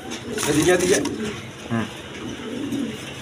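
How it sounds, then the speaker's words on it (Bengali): A pair of American lark pigeons coo nearby, soft repeated throaty calls rising and falling over a murmuring background while someone speaks briefly. "এক পেয়ার এখানে লার্ক, আমেরিকান লার্ক কবুতর আছে"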